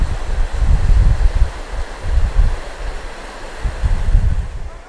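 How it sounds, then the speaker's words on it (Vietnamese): Strong, cool wind blows at Beaver Mines Lake, buffeting the microphone in loud, rumbling gusts that swell and ease over a few seconds, with no one talking. "Ở đây gió rất là lớn nhưng mà gió mát các bạn"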